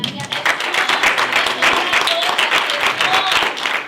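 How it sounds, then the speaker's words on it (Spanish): A church congregation applauds loudly and continuously, dense rapid clapping from many hands filling the space close by, with voices mixed into the crowd. "démosle un fuerte aplauso a nuestro Dios"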